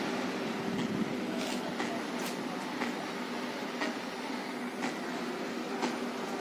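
Ambience at Kirloskarwadi railway station in Sangli district, where people wait on the platforms: a moderate, continuous rumble of rail traffic with faint clicks and distant knocks.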